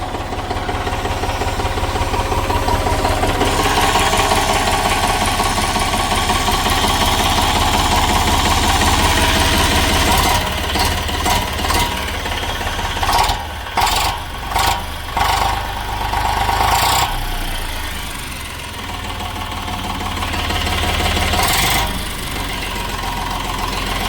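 An Eicher 485 45 hp four-wheel-drive tractor with an air-cooled engine idles close by in a steady rhythmic knocking chug, with a stretch of choppy uneven pulses partway through before it settles back into an even idle.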